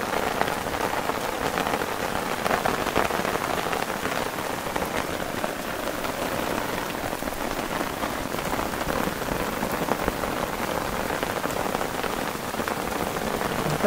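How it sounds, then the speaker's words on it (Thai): Steady rain falls in a forest on a hiking and camping trip, a dense, even hiss of drops on leaves and surfaces, close and continuous, with no voices. "ช่วงบ่ายมาฝนก็ตกครับเพื่อน"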